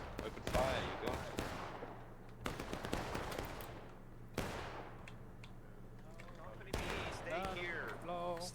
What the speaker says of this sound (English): Keep shooting. Load and shoot, load and shoot.